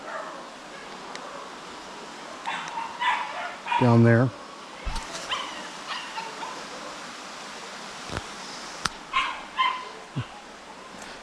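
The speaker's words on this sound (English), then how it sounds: "There's a doggy barking." A small dog barks and yips near a river cave in Bluff City, Tennessee: a short close burst of barks partway through, with people talking outdoors around it.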